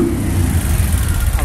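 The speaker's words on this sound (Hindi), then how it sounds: "आवाज़ सुनाता हूँ इंजन की आपको" A CT 100 motorcycle engine, freshly serviced and restored, runs steadily nearby, a loud low throbbing drone with no voices over it.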